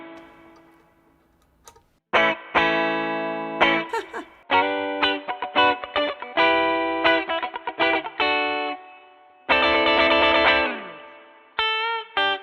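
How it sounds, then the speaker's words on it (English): Guitar played through an Old Blood Noise Endeavors Bathing effects pedal with a thin, bright, high-pass filtered tone; choppy strummed bursts and sustained notes separated by short silences. "So it's going to be a bit of a high pass sound"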